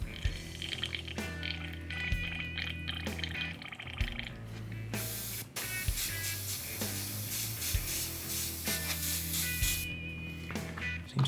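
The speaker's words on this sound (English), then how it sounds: "Seems to be spraying alright." An airbrush sprays metallic paint in soft, steady hissing bursts close by, with faint clicks and knocks from handling equipment between them.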